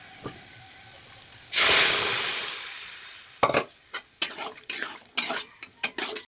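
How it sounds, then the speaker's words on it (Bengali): Spiced food drops into hot white cooking oil with a sudden loud sizzle that slowly fades, followed by metal utensils scraping and clattering against the pan during stirring. "সাদা তেলের মধ্যে ভেজে নেব"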